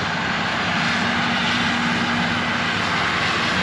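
A steady, loud motor drone hums continuously with a constant buzzing whine as a camera drone flies close overhead above a manure pit.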